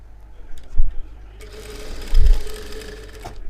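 Sewing machine stitching a saree blouse lining to the main fabric, with short bursts of rapid mechanical whirring between quiet pauses and brief handling noises, close and fairly loud.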